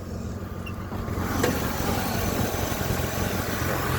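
A turbocharged 3800 engine in a g-body Grand Prix with a T56 swap pulls away sluggishly from a stop, a steady, fairly loud low drone that rises slightly after the first second, heard from inside the car.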